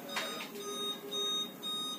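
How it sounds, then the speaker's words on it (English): An oxygen alarm on a medical oxygen manifold machine gives off a steady electronic tone with a few brief pulses, close and moderately loud, with no speech. "It also has an oxygen alarm in it."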